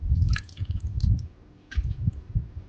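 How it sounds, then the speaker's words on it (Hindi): Water goes into a pan of cooking potatoes for a sour potato dish, producing close wet squishing and clicking bursts with a brief pause in the middle, and no talking. "और इसमें हम डालेंगे थोड़ा सा पानी मज़ीद"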